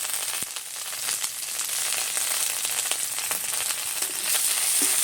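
Chopped onion added to ginger paste and whole spices sizzles steadily in hot oil in a home kitchen pan, a bright continuous frying hiss throughout with a few small spatters and clinks, no talking.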